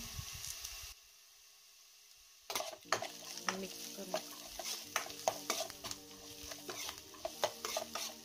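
Turmeric tempering frying in a pan for poha, a quiet sizzle after a short near-silent gap, broken up by repeated sharp spatula scrapes and stirring clinks against the pan.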